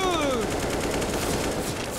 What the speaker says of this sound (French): Un petit coup de feu plein milieu.